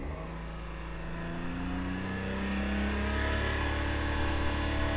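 A smoking Daihatsu car engine held at raised revs, a steady droning hum that climbs slightly and stays up, close and continuous.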